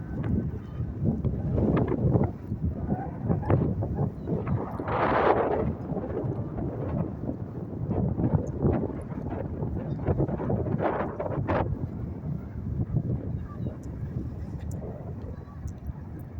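Gusty wind outdoors after a crazy overnight storm, roaring and buffeting the microphone in uneven surges, with a voice talking faintly underneath.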